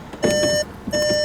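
Electronic beeping inside a Seat Leon car cabin, two sustained steady warning tones each lasting about half a second with a gap between, loud and close over a low rumble.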